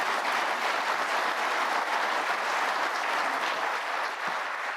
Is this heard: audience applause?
yes